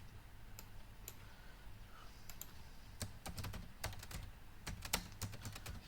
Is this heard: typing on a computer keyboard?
yes